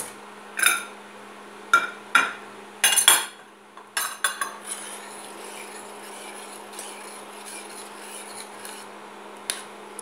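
Metal spoon clinking against a pot while tomato sauce with a little added water is stirred for a simple Sunday pasta, with a few sharp scrapes and knocks early on, then quieter, sparser taps.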